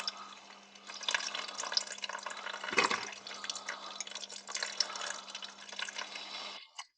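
Coolant drains out of a Mercedes Vito W639 engine, a continuous close splashing and trickling stream of liquid with a low steady hum underneath, cutting off abruptly near the end.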